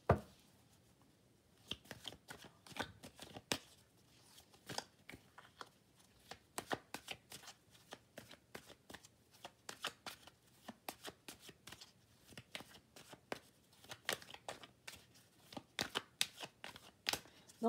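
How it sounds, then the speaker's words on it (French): Playing or oracle cards are shuffled and drawn by hand, giving close, quiet riffling and snapping bursts scattered irregularly through a hushed room. "Je vais essayer de tirer d'autres cartes."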